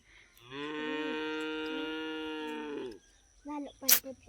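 A young calf lets out one long, loud moo lasting over two seconds, followed by a couple of shorter, softer calls close by.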